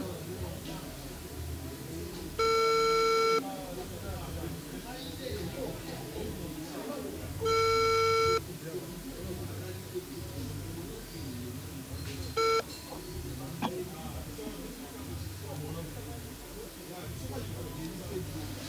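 Three electronic tonal beeps, two longer and one short, repeat at intervals over faint background chatter and room noise.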